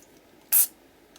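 A spray bottle gives one short, sharp squirt of paint onto an art journal page, a quick close hiss in an otherwise quiet room.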